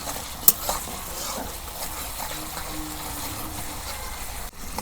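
Onions frying in a pan for village-style chicken bhuna, a steady soft sizzle with stirring scrapes and a brief sharp clink near the start, no talking.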